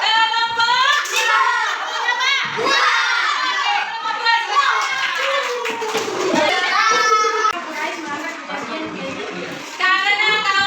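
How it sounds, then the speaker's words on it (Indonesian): Children in a classroom clap their hands together in rhythmic unison, bright close patterns of claps mixed with their lively chanting voices. "Oke, tepuk tangan untuk temannya."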